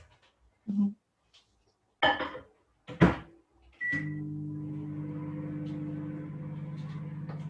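A microwave oven heats a large mug of batter for a mug recipe: a door clunk and beeps, then a steady low electrical hum that runs on continuously, with a person talking briefly before it starts.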